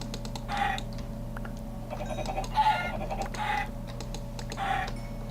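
Several short, mid-pitched Minecraft chicken clucks pop up every second or so over a steady electronic hum and faint clicking of keys, with no one speaking.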